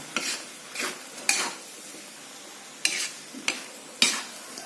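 Mie goreng noodles are stir-fried in a wok that is too small, with a steady sizzle under repeated sharp scrapes and clanks of a utensil against the pan, close and alone.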